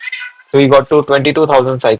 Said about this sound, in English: If you hear that in the background, that is my cat.